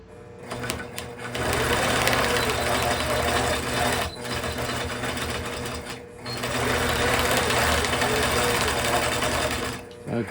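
A sewing machine does free-motion quilting with its stitch regulator engaged, a loud, steady mechanical whir that carries on continuously, breaking off in two short pauses along the way.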